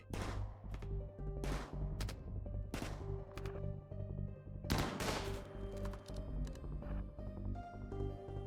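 Rifle fire in the RimWorld video game. A series of sharp gunshots rings out in irregular bursts, some in quick succession, over a steady low game ambience.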